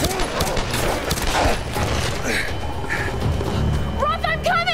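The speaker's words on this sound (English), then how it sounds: "Distant gunfire." Distant gunfire crackles in scattered bursts beneath Tomb Raider: Definitive Edition game ambience and rain, with voices talking over it.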